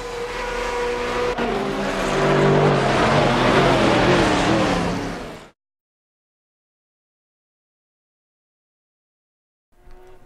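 Singer Porsche engine in the racing game Assetto Corsa, a loud sustained rev that climbs and holds for about five seconds before cutting off abruptly into silence, then a brief burst returns at the end.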